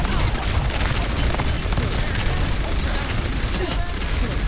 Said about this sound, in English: Top left, I hear Hanzo shooting.